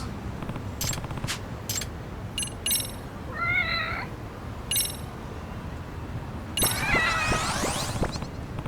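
A cat in the video game Lost Judgment meows a few times, brief mewing cries over a steady game background with scattered clicks and chimes.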